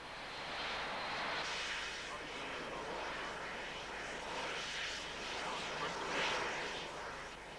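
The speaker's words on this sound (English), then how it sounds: "a bizarre contraption made from two jet engines mounted on an old tank chassis, blasting atomized water into the fire at 600 miles an hour" Two jet engines mounted on an old tank chassis roar steadily while blasting atomized water onto a Kuwaiti oil fire in 1991, a continuous, distant-sounding thunder with a voice speaking over it.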